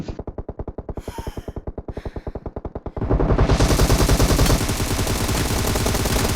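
Rapid automatic gunfire in PUBG rattles in a fast, even burst for three seconds, then gives way to a denser, louder volley of continuous firing. It is close and intense, with a faint gasp early on.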